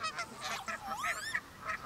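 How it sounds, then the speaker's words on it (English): A flock of geese honks raucously across a wetland, overlapping nasal calls in a steady chorus at moderate distance, with a higher, stranger wavering bird call rising briefly through the middle. "Over the raucous of honking geese"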